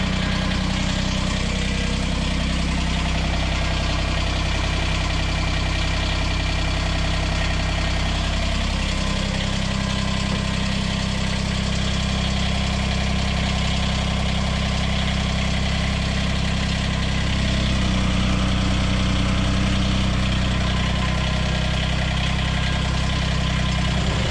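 A Kubota BX compact tractor diesel engine idles steadily nearby on a snowy day, a continuous low rumbling drone with a slight shift in pitch partway through.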